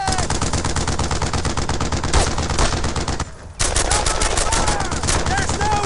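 Dense, loud machine-gun and rifle fire rattles almost nonstop in a WWII shooter game, Brothers in Arms: Earned in Blood, with a brief lull before the barrage resumes.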